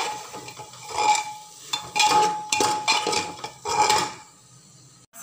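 Metal spoon scraping and clinking against a pan while masala with Kashmiri chilli powder is mixed, for chicken curry in coconut milk; irregular bursts of close, moderately loud stirring and knocks with brief pauses, no voices.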